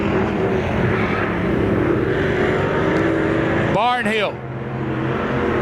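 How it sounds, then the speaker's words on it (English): A B24 race car runs on a local track during Friday heat and feature races, a steady engine drone with a brief Doppler pass-by sweeping past near the end, heard under a commentator's continuous talk. "Tonight he brought the B24, and he's racing like he's very comfortable behind the wheel."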